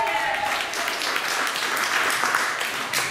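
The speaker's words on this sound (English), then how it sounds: "give me a round of applause, please" An audience applauds at an induction ceremony with a musical performance, the clapping a steady, fairly close wash of many hands that holds level throughout.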